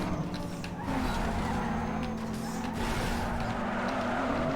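A Nissan 350Z drifts in the racing game Need for Speed Underground 2. Engine roar and tire skidding carry on continuously at an even level, with no talk.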